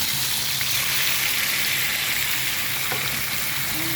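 Chopped tomatoes drop into a pan of browned garlic and chili, setting off a loud, steady sizzle and frying hiss that fills the whole stretch without pause, with no voices over it.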